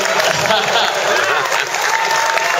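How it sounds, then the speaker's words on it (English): Audience applause at a festival film screening intro and Q&A, steady dense clapping throughout, loud and close, with voices mixed in. "Applause for Ariel Levy."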